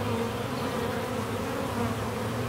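Honey bees buzz inside a bee vacuum fitted with plastic frames, giving a steady, dense drone that stays constant and close with no talking.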